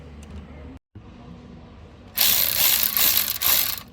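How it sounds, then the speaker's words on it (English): A socket ratchet clicks rapidly as it tightens a hose clamp on the throttle pipe of a Nissan Navara NP300, loud, close and in several quick bursts after a brief quiet moment. "So put our socket on."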